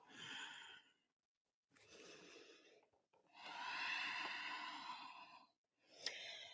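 Ujjayi yoga breaths during a live power yoga session come as slow, raspy, snore-like inhales and exhales, four drawn-out breaths separated by short pauses, close and fairly soft.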